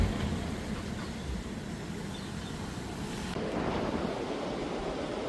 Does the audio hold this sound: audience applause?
no